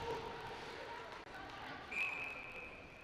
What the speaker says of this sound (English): the ref elects to blow the whistle for a face-off